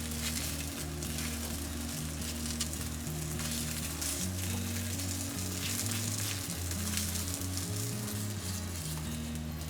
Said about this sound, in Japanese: 最後に強火で水分を飛ばして表面をカリッと仕上げる